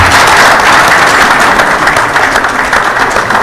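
A crowd at a book launch and vernissage applauds loudly and continuously, dense rapid clapping close by and filling the room for several seconds with no talking.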